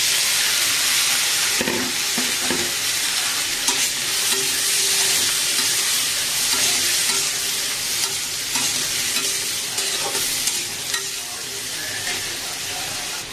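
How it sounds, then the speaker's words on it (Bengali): Potatoes fry together with onions in a pan, giving a loud, continuous sizzle with stirring clatter near the start and scattered scrapes, no one speaking. "আলুটাকেও ভাজবো পেঁয়াজের সঙ্গে।"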